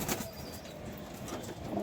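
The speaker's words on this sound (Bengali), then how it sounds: "এই একটা ঝিরিয়া পায়রা, দেখুন জিরিয়া নর" A male Jiriya high-flyer pigeon, a local flying breed, coos softly and fairly faintly in a continuous low murmur, with no talk.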